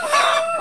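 A chicken lets out a single short, loud cluck close by, rising and then trailing off.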